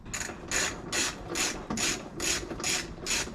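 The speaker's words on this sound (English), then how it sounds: "I got an electrician screwdriver though. It's doing the jobs, pulling them out." An electrician's screwdriver pries plastic grille clips off a Toyota Landcruiser 79 series VDJ79, making about eight steady, rhythmic rasping scrapes close by.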